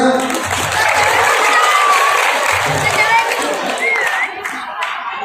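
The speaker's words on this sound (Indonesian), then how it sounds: "Tepuk tangannya." A mosque crowd at a Maulid Nabi gathering bursts into loud, sustained applause, dense clapping mixed with cheering and children's shouts that keeps going for several seconds, with a voice heard over it.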